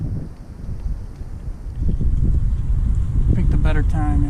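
Outdoor wind buffets the microphone in a low, rumbling roar that strengthens midway, with faint scattered taps and a brief tonal chirp near the end.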